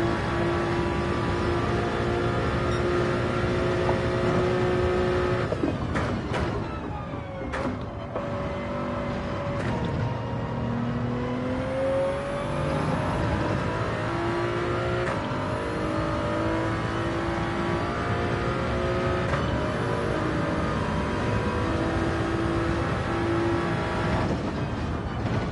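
A Toyota Supra race car in Gran Turismo 7 holds a loud, sustained engine drone during a daily online race, with sharp gear-change breaks and rising revs repeatedly climbing in pitch, no voices present.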